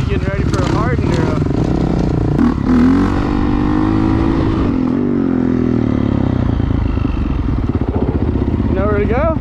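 Dirt bike engine revving continuously and loudly up close as the rider holds a circle wheelie on a forest trail, rising and falling in pitch with a faint voice under it.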